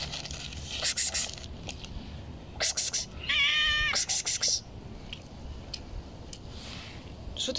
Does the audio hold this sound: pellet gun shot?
no